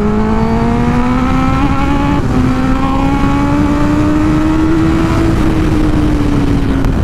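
A 2022 Kawasaki Ninja ZX-10R sportbike accelerates hard in one continuous pull, its engine note rising steadily and loud throughout, with no talking.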